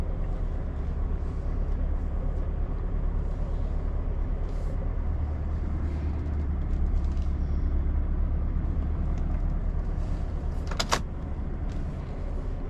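A truck idles and creeps steadily while reversing a trailer in Norway, a constant low engine drone with a faint mechanical whine, a few soft clicks and one sharp rattle near the end.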